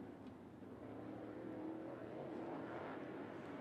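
A limited late model race car on a Stinger chassis laps a short oval speedway, its engine a steady, somewhat distant roar that swells slightly as it passes, with no talk over it.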